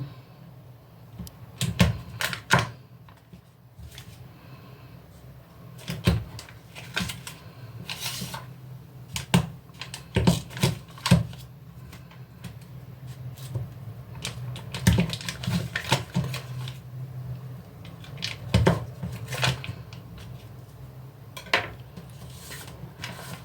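A knife cuts a block of very cold butter into cubes for a fig and blueberry galette, giving sharp irregular taps and clicks on a board against a low steady hum, close and fairly quiet.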